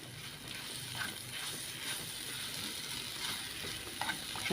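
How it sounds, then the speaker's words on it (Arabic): Eggplant pieces sizzling in hot oil in a frying pan for a homestyle Egyptian meatless dish, a steady, close crackling hiss with occasional sharper pops and no talking. "هنزل بالبتنجان في الطاسه، هرصه كده في الطاسه وهسيبه شويه ساده"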